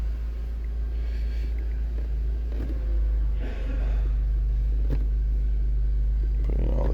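A Nissan Versa idling while its gears are shifted through, giving a loud, steady low engine rumble with faint clicks and a brief rise in engine noise near the end; no voices.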